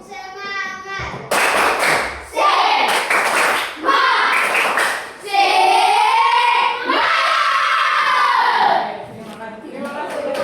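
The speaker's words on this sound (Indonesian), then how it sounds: "Tepuk semangat. Satu kali lagi, lebih semangat lagi." A school class does a rhythmic spirit clap, with bursts of patterned hand claps from many children alternating with loud group chanting and voices between the claps.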